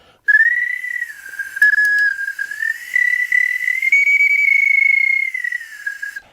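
A plastic bird whistle with a vibrating diaphragm in front of its sharp edge gives one long, loud, continuous warbling tone with a steady vibrato, close and alone.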